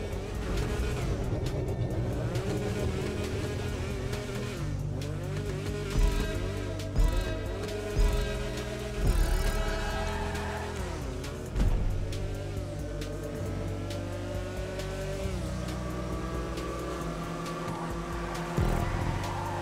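A BF Weevil compact car in GTA Online runs a test lap, its engine droning steadily and loudly, rising and falling with revs and gear changes throughout.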